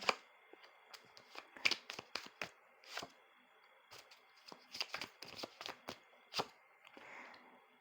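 Oracle cards are shuffled by hand in a quiet room, giving a series of short, crisp riffling and slapping bursts at irregular intervals, close and fairly soft.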